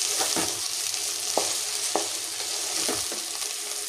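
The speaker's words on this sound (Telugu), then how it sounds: "ఇంకా మెల్లిగా కలుపుకుంటున్నాండి." Okra frying in oil in a pan is stirred slowly, giving a few distinct spoon scrapes over a continuous hissing sizzle, heard up close with no talking.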